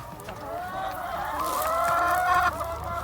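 Laying hens on a small egg farm cluck steadily at close range, several birds overlapping in a continuous, moderately loud chorus with rising calls near the end.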